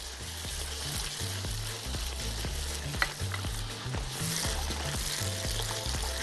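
Tomato sauce with sausage in a pan sizzles and bubbles steadily while being stirred, with a clear scrape of the spoon near the middle of the clip.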